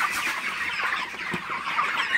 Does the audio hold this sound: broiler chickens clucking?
yes